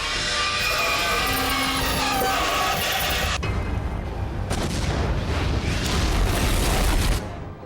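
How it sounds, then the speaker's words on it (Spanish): A grain dust explosion tears through grain elevator tunnels and reaches the main tower, a sustained roaring blast with heavy rumbling and crackling that fills the whole span. "La explosión alcanzó la torre principal con sorprendente fuerza."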